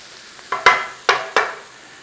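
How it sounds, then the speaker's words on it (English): A roux stirred in a pan for a curried sausage pie filling, with a low steady sizzle broken by three or four quick, close scraping strokes of a utensil against the pan. "we want to be mixing up a bit of a roux going on in here"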